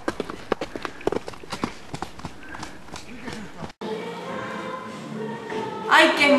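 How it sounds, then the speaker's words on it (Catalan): Horse hooves clip-clop in a quick, irregular rhythm while a rider is on horseback, the beats close and distinct at first; a steadier, denser stretch follows with a voice rising near the end. "Com cavalga el cavall."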